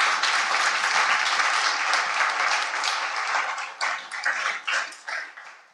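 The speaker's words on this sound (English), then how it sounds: "A big round of applause for everyone." Audience applause at the close of a web group panel discussion, a dense wash of many hands clapping that holds steady and then thins into scattered claps near the end.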